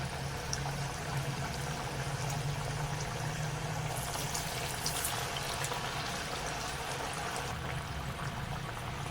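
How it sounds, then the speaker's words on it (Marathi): Lentil and pea fritters deep frying in oil over medium flame, a constant bubbling hiss, steady and close, with no voices. "मीडियम फ्लेमवरती आपल्याला तळून घ्यायचे"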